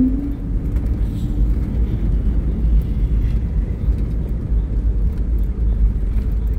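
An IndiGo airliner just after landing at Kolkata's Netaji Subhas Chandra Bose International Airport, a steady, loud low engine rumble filling the cabin throughout, with no talk.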